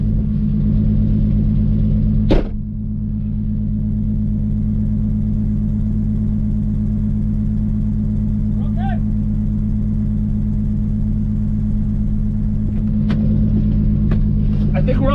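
A VR6-swapped Audi RS3 rumbles with a steady, loud low exhaust drone throughout, briefly dipping once near the start, with faint voices and small knocks over the top.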